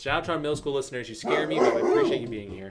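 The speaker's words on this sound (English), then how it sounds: "Oh, that's a dog bark." A dog barks in the background while people talk over it, the sharp yips partly buried under conversation in an indoor recording.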